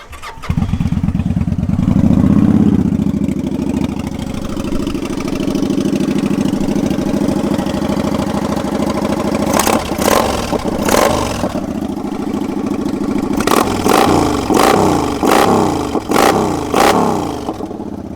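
A 2015 Kawasaki Vulcan 900 Classic cranks and fires up, settling into a steady, loud, close idle that runs for a long stretch, then a series of sharp throttle blips near the end; no talking.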